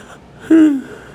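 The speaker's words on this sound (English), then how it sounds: "Sorry for the yawn." A single short, tired human yawn with a brief voiced, breathy rise lasting under half a second, close and fairly loud against a quiet background.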